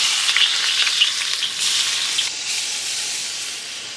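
Red onions hit hot oil in a wok, giving a loud steady sizzle and hiss with faint stirring scrapes, close and continuous with no talk.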